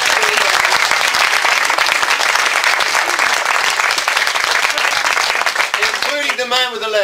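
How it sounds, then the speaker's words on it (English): An audience bursts into loud, close, continuous applause that carries on for several seconds before a voice starts speaking over the tail end of the clapping. "But a huge round of applause."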